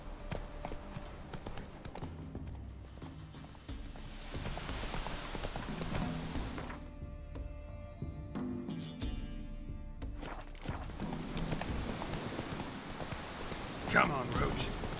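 Rhythmic hoofbeats of a horse galloping in The Witcher 3, steady clip-clop running under game ambience and music, with a voice speaking over it.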